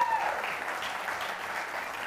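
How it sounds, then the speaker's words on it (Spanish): Studio audience applause on a television interview show, a soft continuous patter of clapping that stays even and fairly quiet throughout. "Fuerte el aplauso"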